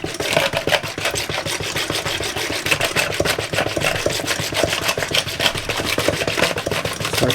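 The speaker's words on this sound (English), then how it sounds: "I'm going to give that a good whisk through until our sugar dissolves" Steady, rapid scraping and rubbing of a whisk against a container as mangosteen juice is stirred to dissolve sugar, a continuous rhythmic swish held close and fairly loud throughout, with no talking.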